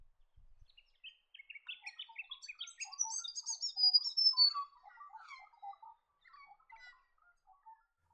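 A hooded robin calls in open eucalypt woodland, a run of clear, fairly close chirps and short whistled notes that swell in the middle and then trail off into softer calls, with no other sounds around them.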